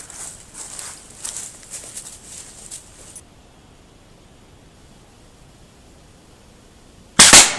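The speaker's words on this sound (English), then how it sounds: "lob a 925 grain 87 caliber slug out here at this mangy varmint." An 87 caliber air gun fires a 925 grain slug with a single sudden loud crack at the very end, following several seconds of faint outdoor background with soft rustling.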